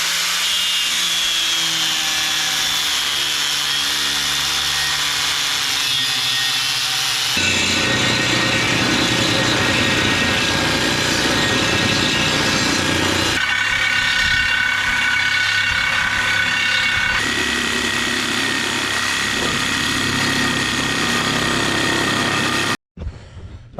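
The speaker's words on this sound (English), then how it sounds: "and then I just use the Sawzall." A Sawzall reciprocating saw cuts steel for a gusset on a log truck build, producing a loud, continuous buzzing grind that changes pitch as the cut progresses and stops abruptly near the end, with no talking.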